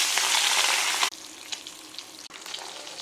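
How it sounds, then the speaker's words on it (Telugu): Plain fish pieces with turmeric and salt fry in hot oil, a dense bright sizzle at close range that drops abruptly after about a second, then continues softer with a few utensil scrapes and ticks. "ఈ రకంగా వేగాలి, ఎక్కువ గట్టిగా వేగిపోకూడదు"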